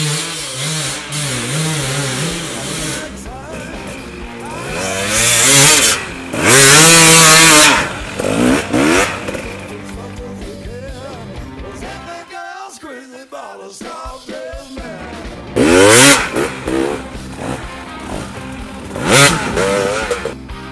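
A KTM or Husqvarna TPI two-stroke dirt bike engine fitted with a racing kit, idling and blipping at low revs, sputtering and misfiring unevenly, with occasional louder rev bursts.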